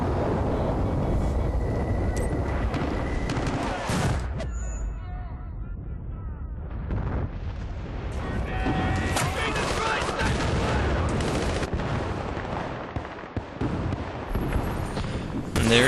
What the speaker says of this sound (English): Here I'm calling in my own mortar strike.